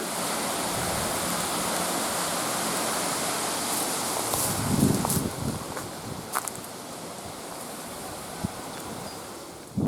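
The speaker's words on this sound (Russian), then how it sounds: "Из озера вытекает поток." A stream flows out of a lake near a bridge in a village in Sumy Oblast, giving a steady broadband rush of water that stays even throughout, with a few faint footsteps or knocks midway.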